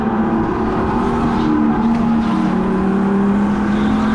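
A go-kart engine drones steadily around a Grand Prix track during a race, its buzzing motor note rising and shifting as a kart speeds past close by, loud and continuous throughout.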